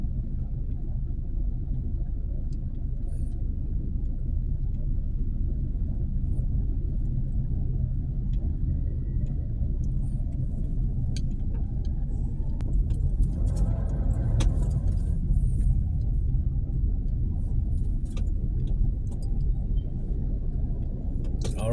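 Slow road traffic on Shaw Boulevard rumbles steadily from inside a car, a constant low engine and road drone with faint rattles and a brief swell of passing noise.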